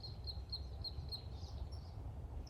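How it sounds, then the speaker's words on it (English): Birds calling outdoors on a rural Montana morning, a thin repeated high chirping pattern over a steady low rumble of background noise, moderately distant and alone without talk. "You hear that? That's the birds chirping."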